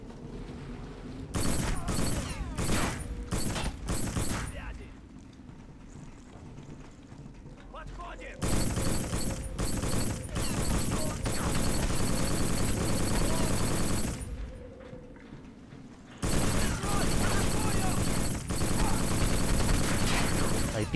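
Bursts of rapid gunfire in the PS2 shooter Black, fought on Graznei Bridge, with loud clustered volleys separated by brief lulls, under game sounds and someone talking.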